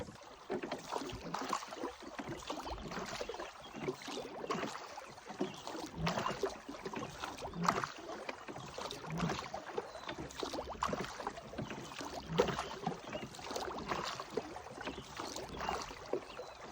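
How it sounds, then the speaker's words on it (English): Oars work a rowboat along the northern shoreline of a calm lake bay, with rhythmic splashes and creaks of each stroke set against a steady wash of water and light wind, and no speech. "Rowing my way along the northern shoreline, I'm trying to find some wind."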